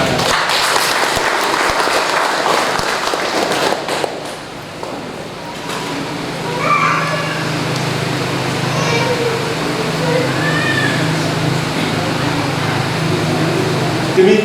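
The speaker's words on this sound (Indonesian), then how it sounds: "Mari kita beri tepuk tangan." A congregation applauds the newlyweds at a Catholic wedding with dense clapping that fades after a few seconds, followed by quieter room sound and a voice speaking.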